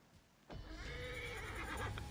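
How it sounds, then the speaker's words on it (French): A horse in the video game Assassin's Creed Origins lets out a loud, shaky whinny that rises and trails off, with faint hoof clatter beneath. "J'ai récupéré des chevaux près d'ici."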